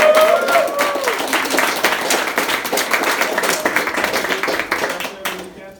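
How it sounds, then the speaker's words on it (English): A crowd at a political fundraiser in a Los Angeles home breaks into sustained applause, dense clapping that holds steady before trailing off at the very end, with voices mixed in underneath. "let's give her another round of applause"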